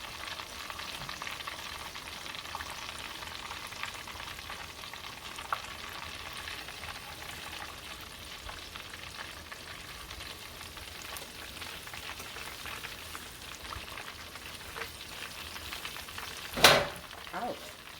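Pieces of Louisiana Cajun battered fish fry in hot oil, giving a constant crackling sizzle that fills the whole stretch, with a sharp louder burst of popping near the end.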